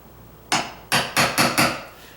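Five sharp, close hammer blows on a quarter-inch chisel cutting a deadbolt strike plate mortise into a door jamb, the first standing alone and the last four in a quick, steady run.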